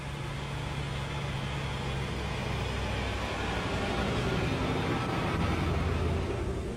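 A Land Rover off-road vehicle drives across level virgin sand, heard as a steady, dense engine and rolling rumble with a constant broadband roar, fairly close and unbroken, with no talking.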